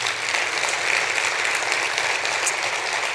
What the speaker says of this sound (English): You better applaud for her